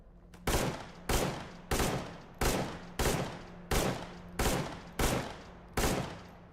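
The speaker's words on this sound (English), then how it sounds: "all this gunfire we're hearing is almost certainly Monolith" Automatic gunfire in the video game Stalker Gamma: eight evenly spaced, loud sharp bursts about half a second apart, each decaying quickly, over a low steady hum.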